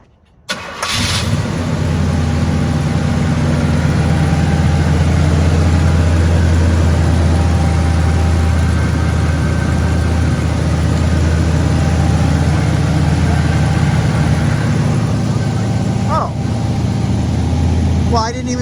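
A 1969 Oldsmobile Cutlass S convertible's engine cranks and catches after a second, then settles into a loud, steady, rumbling idle close by that continues to the end.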